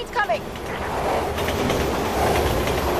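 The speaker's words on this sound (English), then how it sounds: "So here's our first train. Train's coming!" A subway train in the video game Resident Evil 6 approaches through a tunnel, its deep rumble and rattling wheels swelling steadily and drawing closer, with a brief voice-like tone near the start.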